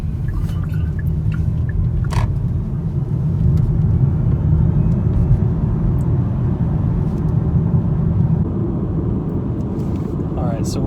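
A Hyundai Kona Electric rolls along in one-pedal driving, its steady low road and motor rumble continuous and fairly loud, with a few faint clicks over it and no talking.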